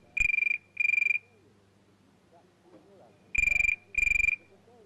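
A trimphone's electronic tone caller set to loud gives two short warbling bursts, a pause, then two more, bright and prominent against a quiet background.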